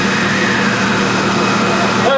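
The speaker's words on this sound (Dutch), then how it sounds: "Und zu dem Regen gehört natürlich auch Wind, dafür sind die Windmaschinen da." Wind machines on a film set give a steady, loud, droning mechanical rush with low rumble, constant and unbroken throughout.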